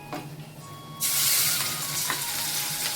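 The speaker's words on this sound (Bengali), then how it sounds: "প্রথমে পেঁয়াজ বাটাটা দিয়ে দিচ্ছি" Onion paste hits hot oil in a pan and breaks into a loud, bright sizzle that starts abruptly and keeps hissing steadily after a few quiet kitchen clinks.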